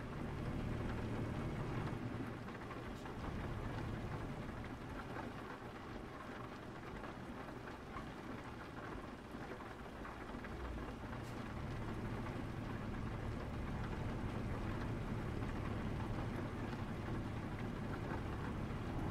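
Steady rain in the video game Euro Truck Simulator 2 pours throughout with a low, rumbling undertone, constant and fairly soft, with no voices.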